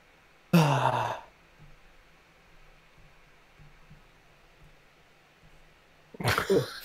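Two loud, breathy bursts of a person yawning into a microphone, one near the start and another near the end, separated by a long stretch of quiet room noise.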